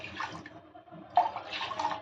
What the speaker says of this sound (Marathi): त्याच भांड्याने आपण तीन पेले इथं आपल्याला पाणी घ्यायचं